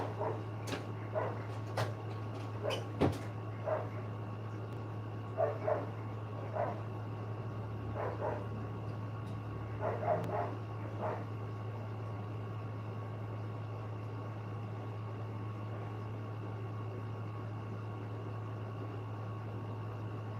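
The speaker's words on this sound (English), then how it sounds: "the neighbors' dogs are out and they're barking at each other" Neighbors' dogs bark at each other in short, faint, scattered bursts. They sound distant, over a constant low electrical hum, and the last stretch falls quiet.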